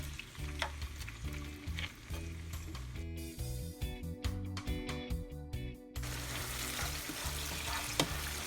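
Seasoning for a Jamaican mackerel dish sautéing over medium heat in a pan, a soft continuous sizzle with occasional stirring, partly buried beneath louder rhythmic background music.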